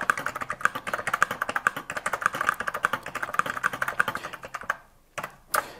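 Keys clatter on a 1985 Brother WP-1 word processor with a Swiss keyboard layout, a fast, close, steady run of crisp taps that stops briefly near the end, followed by a couple of final sharp strokes.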